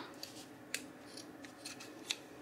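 Scissors snip through the ends of a tied knot on a Dollar Tree light-up candy cane craft, giving two sharp, close cuts with quieter snipping between them and no talking.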